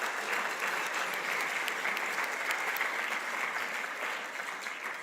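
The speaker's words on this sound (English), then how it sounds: "Please give yourselves a round of applause" Conference audience applauding NALEO Educational Fund staff at the NALEO Annual Conference, a broad, steady wash of many hands clapping in a large hall, sustained and even before tapering slightly at the end.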